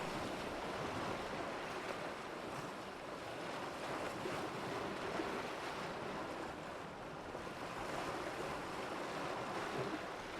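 Ocean waves wash in a continuous, even roar of surf with a soft wind hiss and no voices, steady and fairly close for the whole stretch.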